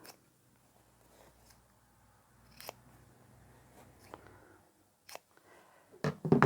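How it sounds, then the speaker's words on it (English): Scissors snipping the corners and side seam allowance of a sewn fabric pocket for a beginner tote bag, faint scattered clicks and cuts building to a louder burst of close snips at the end. "all we need to do is trim the corners"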